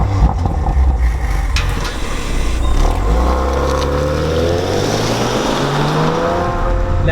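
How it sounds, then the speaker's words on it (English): A 2018 Audi RS5 drives along, its engine a steady, close drone with rising tones as it accelerates, filling the cabin without any voices. "Now behind the wheel of the 2018 Audi RS5"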